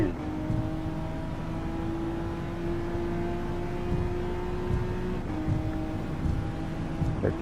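Race car engine in Gran Turismo 7 during a WTC 600 race at Tokyo East, held at full throttle as a steady, loud drone that climbs, briefly drops at a gear change, then keeps pulling, with no voices.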